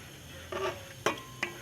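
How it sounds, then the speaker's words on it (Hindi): Chopped onion and garlic fry in a pan for sarson ka saag, giving a faint steady sizzle broken by a few short scraping stirs and clinks of a spoon against the pan. "मैं प्याज़ों को थोड़ा सा ब्राउन कर लूँ"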